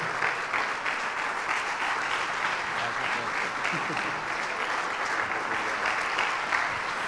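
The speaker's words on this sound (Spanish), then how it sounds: "déle ese aplauso a Jesús" Church congregation applauding during a Sunday morning service, a continuous, steady roar of many hands clapping throughout, with voices mixed in underneath.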